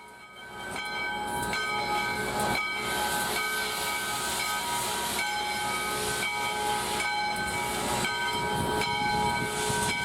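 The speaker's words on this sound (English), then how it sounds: "the crew backs it out of the service center and prepares to hook it on to today's consist" Steam locomotive 148 hisses loudly and steadily as it backs out of a service center, a dense continuous rush of escaping steam with a faint mechanical hum beneath and no talk.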